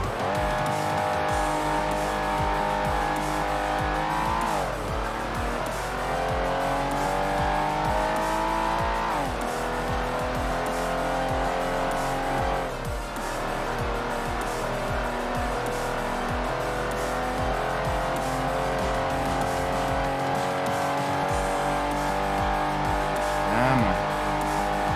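Race car engine in the Ford Racing 1 video game, rear-wheel-drive car, roaring loud and steady through shifts and revs with tire squeal and skidding as it corners during qualifying.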